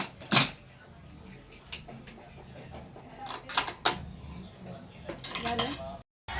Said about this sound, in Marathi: टाकलं आता ढक्कन लावते वरचं झाकण.